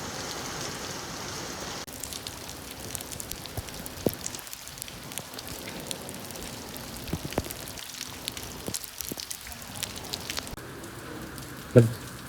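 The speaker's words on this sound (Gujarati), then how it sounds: "પાણી ભરી દીધા, ફૂલ વરસાદ." Heavy monsoon rain pours down steadily in Surat, a constant dense hiss with scattered louder drops and splashes and a sharp thump near the end.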